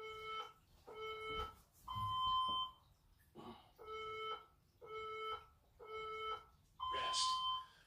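A workout interval timer beeps in a steady pattern of short, loud electronic tones, eight bursts with two longer, higher-pitched beeps marking interval changes, close and alone without talk.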